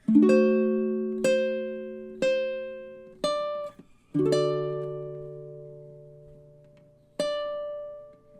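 Baritone ukulele chords struck one per beat in a steady rhythm, each ringing briefly before the next, then a longer sustained chord and a final strum, close and alone.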